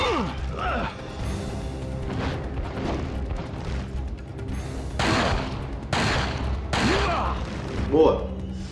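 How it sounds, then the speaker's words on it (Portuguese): Gunshots ring out in Resident Evil 4, with three sharp booming shots spaced about a second apart amid game effects and a player's voice. "Acertei os três tiros ali, tá?"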